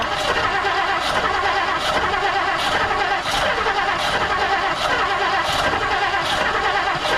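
A 1959 Plymouth Savoy fitted with a new carburetor, cranking with the choke on: a loud, steady starter churn with rhythmic chugging pulses about every two-thirds of a second, continuous and close, with no talk.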